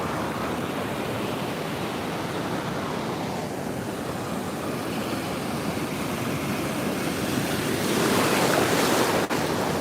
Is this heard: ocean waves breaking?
yes